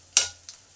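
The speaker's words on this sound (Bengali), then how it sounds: "এইদিকে পেঁয়াজগুলো আমার ভালো করে ভাজা হয়ে গেছে" Onions frying in a pan for a pea curry give one short, close burst of sizzling stir with a faint scrape after it, and no voices.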